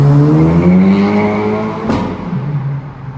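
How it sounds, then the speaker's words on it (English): A car fitted with a K20C4 engine and Type R turbo revs loudly close by, its engine tone climbing and then dropping sharply as it shifts, followed by a rougher, lower drone. "the car sounds really good no matter what, and it sounds even better with the K20C4 in it"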